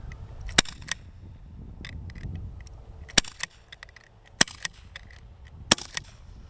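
Sig Sauer SP2022 pistol shots fired through a chronograph, four sharp cracks spaced a second or more apart, with lighter clicks and handling noise between them.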